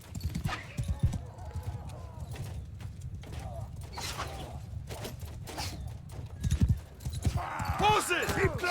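Hoofbeats of horses in the video game Mount & Blade II: Bannerlord, a dense rumbling clip-clop of many mounts charging in a battle, steady throughout with someone talking over it.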